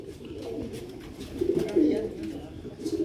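Sialkoti white tiger pigeons coo softly in low, rolling bursts close by, with steady background noise and a voice talking at times.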